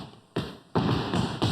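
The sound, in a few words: foot stomping in body percussion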